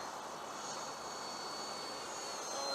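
A Freewing A-4 model jet airplane flies past with a steady, faint, airy engine whine and rush that swells slightly toward the end.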